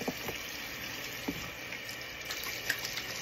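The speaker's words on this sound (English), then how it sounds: "let me wash my hands first" Tap water runs steadily into a sink as hands are washed beneath it, a close, even splashing hiss with a few small splats and knocks and no one speaking.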